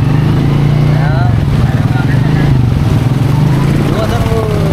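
Motorcycle engine running through monsoon flood water in Malolos, a loud, close, steady rumbling idle under talking.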